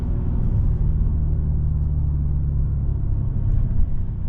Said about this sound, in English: we're about ready to get on the highway here with this N-Line, and let's see how she does